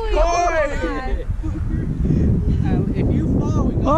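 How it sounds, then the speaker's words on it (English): Strong gusts buffet a microphone outdoors at a campsite, a loud continuous low rumble running the whole time while people talk loudly over it. "it's windy"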